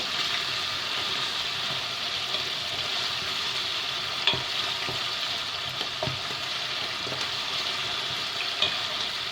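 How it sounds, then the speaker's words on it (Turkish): Potatoes fry in oil in a pan, a steady bright sizzle holding throughout with a few small pops and stirring clicks scattered across it. "Her taraftan patateslerim burada kızarıyor."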